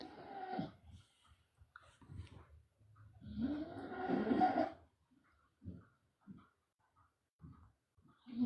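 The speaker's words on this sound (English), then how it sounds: "A dog is snoring in the background." A dog snoring, with low, rough, rattling breaths repeating in irregular bursts, a couple of longer louder rumbles among them, close and fairly quiet with no talking.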